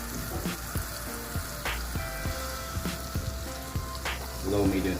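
Butter melting and sizzling in a pan over low-medium heat, a steady hiss with scattered small pops and ticks throughout, fairly close.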